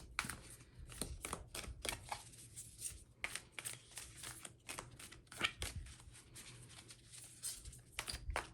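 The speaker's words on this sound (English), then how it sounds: "These cards are large and hard to shuffle, so bear with me." Repeated soft riffling and flapping of large tarot cards being shuffled up close, in irregular bursts with brief pauses.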